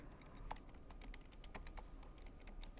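Code being typed on a computer keyboard during an Android programming session: a steady stream of quick, soft key clicks, close and faint, with no talking.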